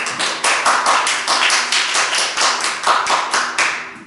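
A church congregation claps along in a steady rhythmic beat, roughly two claps per second, loud and close, with no voices over it.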